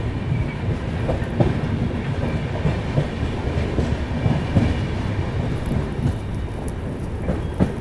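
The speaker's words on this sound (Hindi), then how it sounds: "सामने यहाँ से देख लीजिए जो लाइन अलग होती है उस पर ट्रेन भी डिपार्चर ले रही है" A train departs along a diverging line at Bharatpur Junction in India, its steady low rumble and wheel clatter rolling on continuously with occasional sharper clanks, fairly close and without talk.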